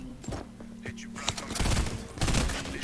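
Rapid gunfire from a weapon in a video game crackles in dense bursts, with a sustained tone behind it and a player's voice talking over the shots.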